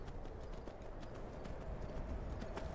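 Horse galloping in the Skyrim video game, with steady, rapid hoofbeats continuing without a break at a close, even level and no talking over them.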